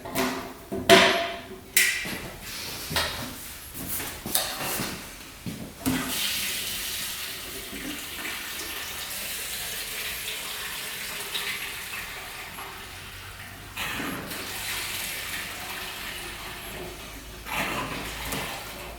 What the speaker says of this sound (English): So gas is dripping pretty good from the petcock right now